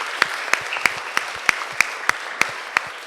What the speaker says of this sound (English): let's give them a round of applause because they're getting the word out